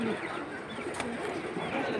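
Pigeons kept in a fancier's collection coo softly in low, rolling calls, fairly faint against a light background hum.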